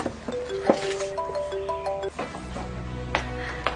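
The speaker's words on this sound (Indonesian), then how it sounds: "Nya, ada telepon." A phone rings with a short melodic electronic tone, a few stepped notes repeating at moderate volume indoors, with faint background noise.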